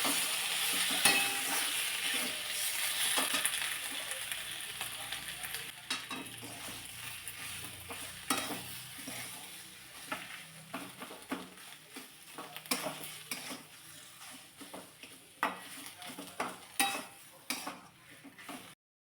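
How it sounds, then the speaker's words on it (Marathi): A spoon stirs spiced potato filling for batata vada in a pan over a low flame. The scraping is steady and continuous, with a light sizzle underneath and frequent sharp clicks of the spoon against the pan, and no talking. "मंद आचेवरती चांगलं हे मिक्स करून घेतलेलं आहे"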